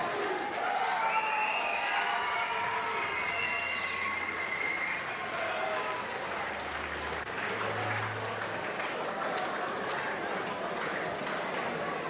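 Crowd at a combat sports fight event applauding and cheering after a heavyweight bout, a steady wash of clapping and shouts throughout, fairly distant, with faint tones over it.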